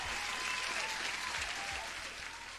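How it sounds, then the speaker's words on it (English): Steady applause from a small group fills the whole stretch, a dense even patter of clapping with no talk over it. "I think you deserve an applause."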